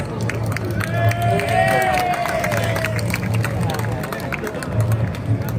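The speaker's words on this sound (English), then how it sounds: "Massive round of applause." Applause and cheering break out from a crowd at a street rally on a St George's Day march, with clapping, scattered shouts and murmuring voices spread across the space, people talking throughout.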